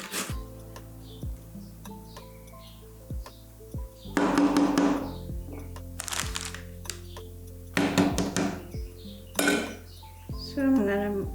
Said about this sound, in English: we're gonna grate the carrot now